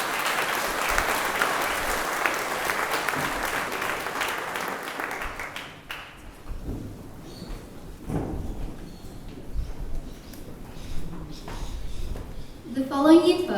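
An audience at a school awards ceremony applauds students, a loud steady round of clapping that fades after several seconds into room noise, shuffling and voices.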